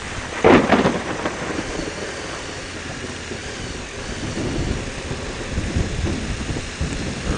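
A thunderclap cracks early during a thunderstorm, followed by steady rain and rumbling wind on a motorcycle ride, with no voices.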